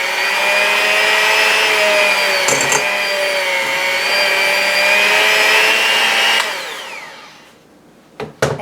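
Electric mixer whirring steadily in a bowl of gluten-free lemon lime poppy seed cupcake batter, a loud close motor whine that holds for several seconds, then winds down and stops, followed by a few brief knocks.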